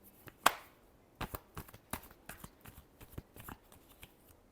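Tarot cards being shuffled during a reading: a soft riffle at the start, then scattered papery flicks and slaps in irregular bursts, close and fairly quiet, with no talking.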